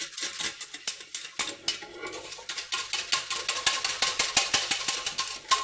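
A saucepan of cornflour-thickened mussel sauce is set back on the hob, with a busy run of close metallic clinks, taps and scrapes of pan and utensil in a quick, uneven rhythm.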